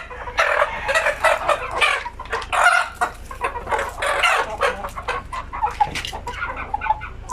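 Native chicken roosters cluck and squawk busily and loudly at close range in a continuous flurry, calls overlapping with no speech.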